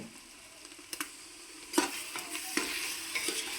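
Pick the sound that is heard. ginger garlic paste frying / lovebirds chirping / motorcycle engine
ginger garlic paste frying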